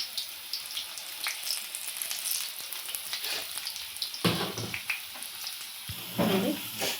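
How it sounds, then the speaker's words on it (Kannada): Chillies sizzling and frying in hot oil, a continuous crackling hiss with sharper bursts of spattering popping up near the end, heard up close with no voices. "ಈ ಮೆಣಸಿನ್ಕಾಯಿ ಒಂದೊಂದು ಸತಿ ಸಿಡಿಯುತ್ತೆ, ಹುಷಾರಾಗಿ ಬಿಡಿ."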